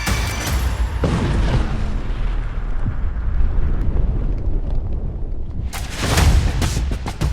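A loud, deep explosion at Russia's Novorossiysk Black Sea Fleet naval base rumbles on as a sustained roar, then swells again with another heavy burst near the end.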